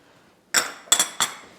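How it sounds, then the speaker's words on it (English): A spoon knocking three times against a pot of stew with capers, olives and tomato paste, sharp metallic clinks in a quick uneven rhythm, close and fairly loud with no talk. "And now I'm just going to stir that all together"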